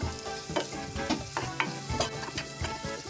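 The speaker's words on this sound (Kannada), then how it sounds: "ಚೆನ್ನಾಗಿ ಮಿಕ್ಸ್ ಮಾಡೋಣ." Spice powders being stirred into curd in a hot pan, with repeated scraping stir strokes in an uneven rhythm over a soft sizzle, close and fairly quiet, no voices.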